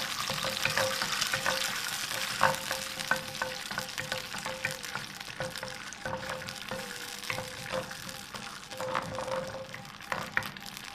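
Tomato puree frying for chicken jalfrezi, a steady sizzle punctuated by repeated spoon scrapes and taps against the pan, close and continuous.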